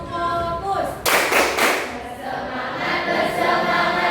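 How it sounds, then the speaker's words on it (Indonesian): A group of students does the rhythmic Indonesian focus clap, a sharp burst of hands clapping together followed by lighter claps and a busy murmur of voices in the room. "jadi supaya fokus kita tepuk fokus dulu"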